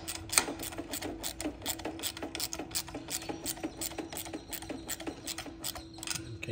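Carburetor mounting bolts on a Briggs & Stratton engine being tightened with a ratchet, giving a fast, even series of close metallic clicks that continues for several seconds with a brief sharper knock near the start.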